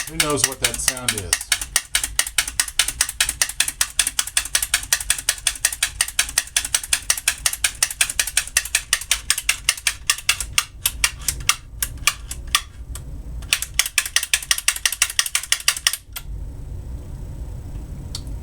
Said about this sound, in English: Rolls Razor has been a forgotten razor